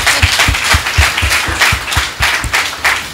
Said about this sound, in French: Alors ça s'applaudit.